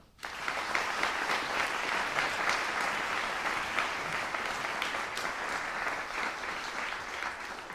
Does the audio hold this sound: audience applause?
yes